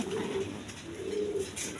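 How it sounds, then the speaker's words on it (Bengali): A big chocolate-coloured Rajgolla pigeon coos softly twice nearby, two low rolling calls over quiet background hiss. "নর্মাদি same to same chocolate colour কবুতর"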